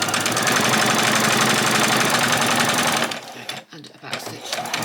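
Sewing machine stitching ruffles for a spring outfit runs as a loud, steady mechanical hum, then stops briefly for a back stitch before starting again in short bursts.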